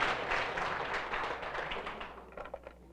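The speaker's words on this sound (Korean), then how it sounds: "우리 황희정 루비 사장님과 권정득 사장님께 큰 박수 좀 부탁드리겠습니다." An audience at a business presentation claps together in a dense burst of applause that thins into scattered claps and fades out.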